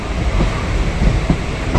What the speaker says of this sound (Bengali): আমাদের ডেস্টিনেশন বারাসাতে এই মুহূর্তে আমাদের ট্রেন প্রবেশ করছে ধীরে ধীরে।